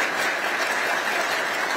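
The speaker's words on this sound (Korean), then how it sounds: "큰 박수 부탁드립니다" Brief burst of steady applause from ministry officials at a farewell ceremony for a departing justice minister, even and continuous with no voices.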